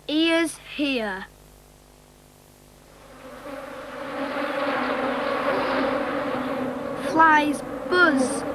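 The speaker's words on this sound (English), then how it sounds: "Flies buzz." A steady, droning buzz of flies swells in and holds for several seconds, bracketed by short bursts of a voice speaking before and near the end.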